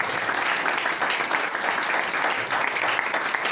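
Church congregation applauding and cheering in praise of God during a sermon, a dense, steady wash of clapping and acclamation that stays loud and continuous throughout.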